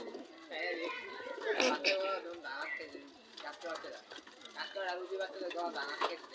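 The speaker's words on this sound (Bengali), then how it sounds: "এই যে ভাই কবুতরটা, তার কবুতর তারে দিয়ে দেই" A caught neighbour's pigeon coos in short bursts, close and clear, while people talk nearby.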